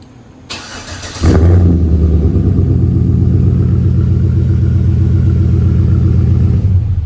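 A Chevy engine with an open exhaust cutout and a 4-inch tip turns over after a short click and cranking sound, then settles into a loud, deep, rumbling idle close by.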